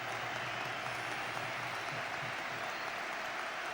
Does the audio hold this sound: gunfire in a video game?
no